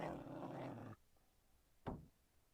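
A cartoon dog in the After Dark computer screensaver gives a low, rough growl lasting about a second, then goes quiet before a short sharp bark-like burst, with no talking.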